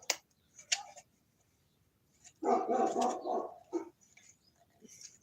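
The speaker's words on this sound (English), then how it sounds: "My dog is barking at now." A dog barks in a few sharp bursts, moderately close, with a clustered run of barks in the middle and scattered quieter yelps around it, with no talk over it.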